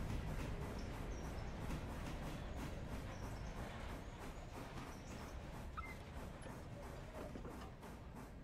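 A long freight train rolls steadily in the railroad game Railroader, a constant faint rumble with a rhythmic clatter of wheels and no voices.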